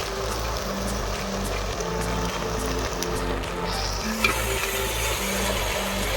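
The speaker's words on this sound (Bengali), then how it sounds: "ভেন্ডি খুব সুন্দর করে ভেজে নিয়েছি, এবার বেটে রাখা সরষেগুলো দিয়ে নিচ্ছি।" Okra fried in a pan while ground mustard paste is added and stirred in, giving a steady close sizzle and frying hiss with soft scraping stir sounds throughout and no talking.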